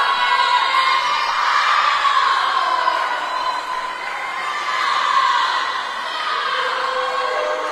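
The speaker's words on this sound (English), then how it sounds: "We got OA cheering Alex on" Spectators at a high school swimming meet cheer and shout continuously, a loud, echoing roar of many voices in an indoor pool hall, swelling and dipping slightly but never stopping.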